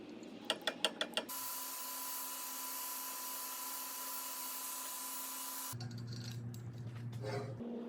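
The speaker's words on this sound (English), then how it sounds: "offsetting it to the other side, so that I can grind the high end on the other end of the table." A belt grinder fitted with a surface grinding attachment grinds a metal table: a few quick ratcheting clicks come first, then a long, steady motor drone that shifts to a rougher grinding tone near the end, with no talking.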